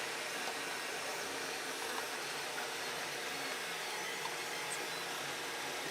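A 3D printer running at 100 mm/s gives a steady, fairly quiet whirring hum with broad hissy noise, like small motors and fans running continuously, no voices.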